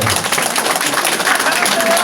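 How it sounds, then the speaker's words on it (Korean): Crowd at a city hall community meeting gives a sustained, dense round of applause, loud and steady for the whole stretch with voices faintly underneath. "박수 한번 쳐주세요"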